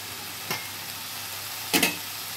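Cooked rice is stirred through a hot pan with other ingredients, giving a steady soft sizzle with two brief, louder scraping strokes of the spoon, close and without talk.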